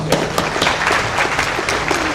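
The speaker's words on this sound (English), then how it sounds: "So John, a round of applause." A small group claps steadily for a couple of seconds, moderate in volume with individual claps audible in the mix.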